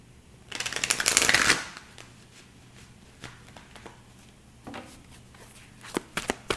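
A brisk burst of tarot cards being shuffled close up, followed by quieter taps and a few soft card riffles.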